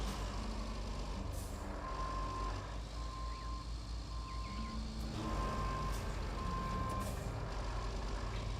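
Repeated steady reversing beeps ring out from a crane truck in the Road Craft video game, sounding at an even rhythm over a continuous low engine rumble with a short air-brake hiss.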